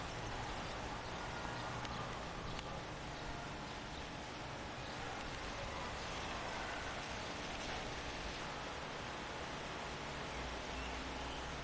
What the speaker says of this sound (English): Not raining too heavy, but it's enough to keep you indoors